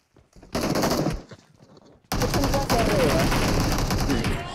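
PUBG Mobile gunfire: a short automatic burst, a brief lull, then a long sustained stream of rapid shots, loud and close, with players talking over the shooting.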